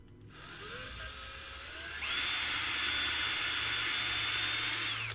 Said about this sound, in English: So let me put a 1/4 inch drill bit in my drill.